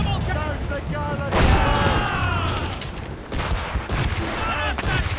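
Ship cannons firing in Assassin's Creed Rogue, a run of loud booming volleys and gunfire bursts under a shouting voice and busy game noise.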